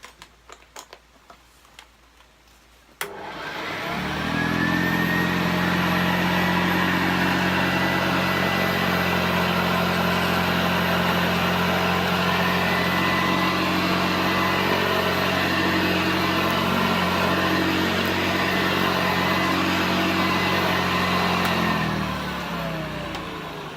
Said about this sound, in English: That is a beast of a vacuum cleaner, an absolute beast.